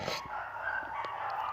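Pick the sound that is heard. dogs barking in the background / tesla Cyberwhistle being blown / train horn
dogs barking in the background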